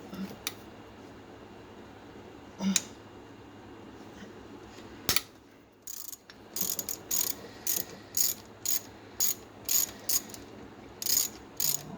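A ratchet clicks while loosening the starter bolts on an Arctic Cat 375 ATV, a run of sharp, regular metallic clicks in steady bursts after a few isolated knocks, close and with no talking.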